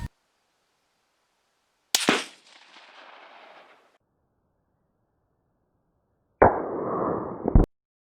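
A single sharp M1903A4 rifle shot fired with a handload of 56 grains of Reloader 22 at an outdoor range cracks loudly and fades into a reverberating tail. After a stretch of silence, a second shorter, boxy burst follows.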